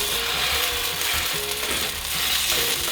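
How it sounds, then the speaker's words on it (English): Potato latkes sizzle and crackle steadily in hot oil in a pan, a dense, continuous frying hiss with faint scraping and clinking in the background. "I'm going to start pan frying up these latkes"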